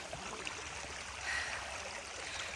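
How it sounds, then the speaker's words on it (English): Storm runoff streaming down toward a creek, a steady, soft rushing and trickling of water with no voices. "It's a lot of water coming down through there."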